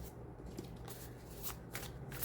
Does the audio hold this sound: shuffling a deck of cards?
yes